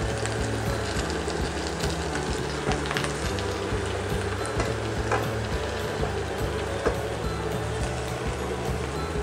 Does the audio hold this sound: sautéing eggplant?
yes